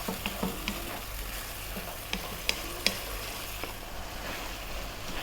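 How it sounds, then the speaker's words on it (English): Ground beef meat sauce bubbling in a pan on medium heat, a dense steady sizzle with a few soft stirring clicks and scrapes, close and continuous. "5 more minutes, stay on this medium heat, and then our meat sauce will be done"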